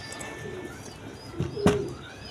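Pigeons cooing, a couple of soft low coos near the end over a faint background hiss, with a brief sharper chirp alongside.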